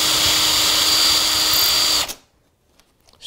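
A power drill boring a hole in a model railway layout runs loud and steady for about two seconds, its high whine cutting off abruptly into near silence.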